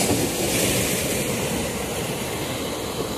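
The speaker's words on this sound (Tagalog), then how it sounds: "Maganda yung alon ng tubig ngayon, hindi masyadong malakas." Sea waves wash in a steady, moderate broadband roar during a morning fishing outing on the open sea, with the surf continuous and fairly close and no voices over it.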